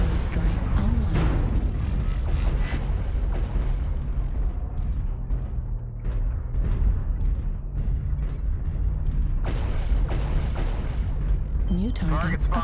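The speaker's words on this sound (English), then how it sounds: "New target acquired. Artillery strike online." Artillery strike explosions in a video game, a continuous barrage of loud booms and rumbling blasts under voices talking and radio-style game announcements throughout.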